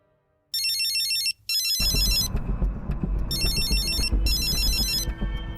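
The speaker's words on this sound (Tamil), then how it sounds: "ஃபோன் அடிக்குது" A telephone rings in a Tamil TV serial, its electronic trilling tone repeating in bursts, loud and near, over a thick music-like background bed, with no speech.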